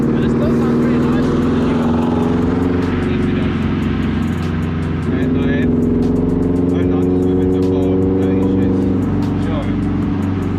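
Subaru WRX STI tuned for high boost, heard from inside during a ride-along: a loud, steady engine rumble with shifting pitch throughout, while people talk over it.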